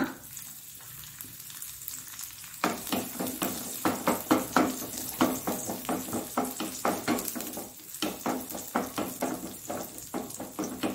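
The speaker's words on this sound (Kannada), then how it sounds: "ಕಲರ್ ಬರುವಾಗ ನಾವು ಈಗ ದ್ರಾಕ್ಷಿಯನ್ನು ಸಹ ಹಾಕೊಳ್ಳೋಣ" Raisins join cashews frying in a pan for Hayagreeva sweet, a close steady sizzle broken by quick rhythmic scraping strokes of stirring that begin a few seconds in and continue throughout.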